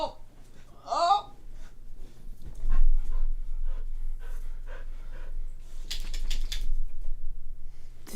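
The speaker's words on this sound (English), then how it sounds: "This dog is so excited for no reason. Can you hear that?" An excited dog pants in quick, breathy bursts, fairly close, with some faint clicking and shuffling sounds around it and no clear speech.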